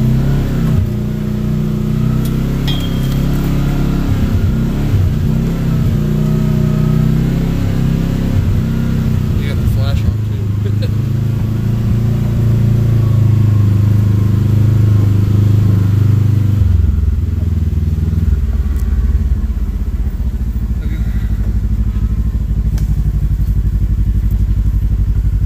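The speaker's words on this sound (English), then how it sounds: "This motor is just begging to be opened up." A 5XL RC truck's motor revs and drones loudly, rising and falling in pitch with clattering from the drivetrain, while someone talks over it.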